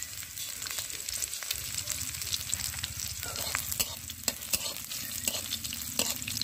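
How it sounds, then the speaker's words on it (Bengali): Crushed garlic, chili and black cumin fry in a pan for a village-style Bengali greens dish, a steady soft sizzle broken by scraping clicks as the spices are stirred. "তিরিশ সেকেন্ড মতো আমি নাড়াচাড়া করে নেব।"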